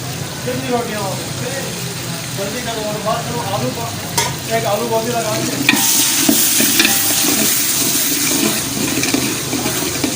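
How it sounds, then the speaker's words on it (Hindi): Garlic-ginger water poured into onions and tomatoes frying in a pan for dhaba-style moong dal, with a steady sizzle and a stirring scrape, and the hiss swelling louder in the second half. "अब मैं लहसुन अदरक का जो पानी है वो मैं डालूँगा 2 चम्मच सालन वाले भर के"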